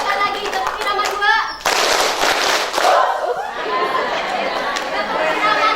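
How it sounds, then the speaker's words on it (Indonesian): A group at a community health post session claps hands together in a set rhythm. The burst of clapping is loud and lasts a second or so, with children and adults chattering before and after. "Coba sekali lagi, tepuk irama 2."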